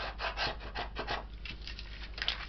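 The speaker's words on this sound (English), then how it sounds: "I like to take a bone folder and go over it just to make sure it's down really well." A bone folder rubbed over book pages being set into a signature gives soft, repeated scraping and rubbing strokes, close and gentle, with no voices.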